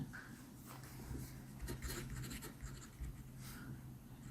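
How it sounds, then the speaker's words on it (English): A pen or pencil writes out a maths exam question on paper, giving steady, faint scratching and rubbing strokes with small pauses, close up and alone without talk. "let me write the question down"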